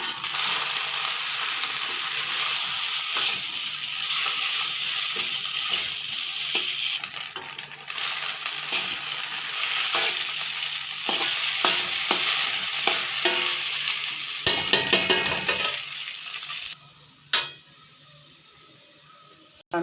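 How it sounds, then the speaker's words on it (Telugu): Egg noodles fry in a pan with coriander, hissing and crackling steadily while a spatula stirs and scrapes in quick bursts, then the sound stops abruptly near the end. "కొత్తిమీర వేసి 1 నిమిషం అట్లా వేయించుకొని సర్వ్ చేసుకోవటమేనండి"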